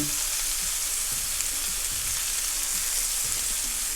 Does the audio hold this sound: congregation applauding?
no